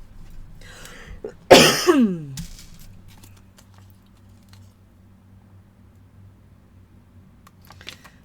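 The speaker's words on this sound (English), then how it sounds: "And I don't know why I'm coughing." A single person's sharp, harsh cough, close and abrupt, followed by a short throaty rasp, with quiet rustling before and after.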